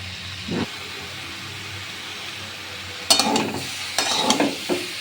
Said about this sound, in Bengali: ওলকপিটা দিয়ে দিয়েছি এবার ভালো করে নাড়াচাড়া করে নেব